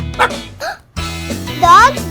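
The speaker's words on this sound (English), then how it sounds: "Dogs bark to say something, like they want to play, or there's danger." Dog barking in a children's educational cartoon, a few short yips and bow-wows up close in quick succession, clear and loud.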